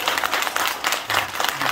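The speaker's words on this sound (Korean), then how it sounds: "박수 한번 치시죠." Temple audience clapping during a Buddhist Lotus Sutra recitation ceremony, a brief burst of dense, loud applause in a few pulsing swells.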